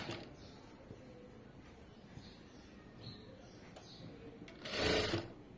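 A sewing machine stitches thread piping along a straight seam, humming faintly and steadily in the background. A louder burst of running sounds near the end.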